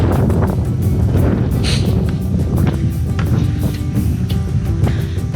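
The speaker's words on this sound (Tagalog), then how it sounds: "lakas ng hangin" Strong wind buffets the microphone at a hilltop view deck near Mount Arayat, a continuous loud low roar with gusty rumble filling the whole stretch, no talking over it.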